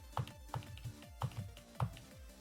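A computer mouse is clicked repeatedly while lining up a duel start in a game: about half a dozen sharp, close clicks at uneven intervals, quiet and with no voices.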